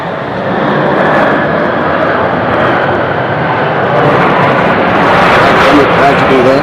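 At Nashville International Airport, a landing airliner touches down, its engines giving a loud, sustained broadband roar that swells slightly toward the end, with a person talking over it.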